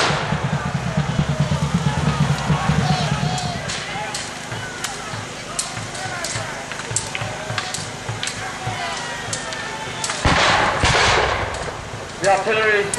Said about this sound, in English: The artillery is still firing,